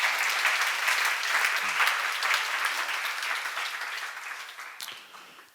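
A church congregation claps together during a sermon, a dense sustained wash of applause that gradually thins and fades toward the end.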